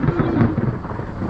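Thunder rolls through a rainstorm over a village garden, a loud, dense, low rumble that swells and lingers across the whole moment with the hiss of rain mixed in.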